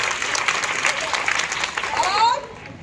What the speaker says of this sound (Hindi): चलिए इनके लिए जोरदार तालियां